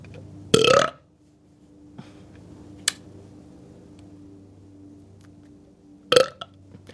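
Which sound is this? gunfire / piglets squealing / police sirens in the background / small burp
small burp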